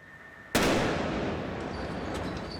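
A pipe bomb set off by a police robot cutting a line goes off in one sharp, loud blast, followed by a long rumbling roar that slowly fades and carries some distant crackle.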